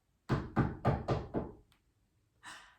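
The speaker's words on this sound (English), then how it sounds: "she heard a knock at the door." Five firm knocks on a door in an even rhythm, close and fairly loud, followed by a short pause and a softer breathy sound.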